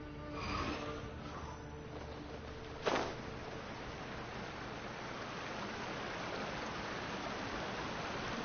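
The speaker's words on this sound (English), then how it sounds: "There's the waterfall." A waterfall in the video game Genshin Impact gives off a steady, broad rushing roar that holds evenly throughout, with one brief sharp burst partway through.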